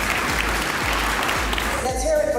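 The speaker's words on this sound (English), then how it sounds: "Can we give her a round of applause as she comes forward," Audience applause at a golden tourism award ceremony, steady broadband clapping throughout with a voice speaking over it near the end.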